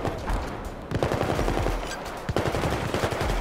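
Rapid bursts of gunfire from Battlefield 4 gameplay, dense overlapping automatic shots that keep going throughout at close range, with music underneath.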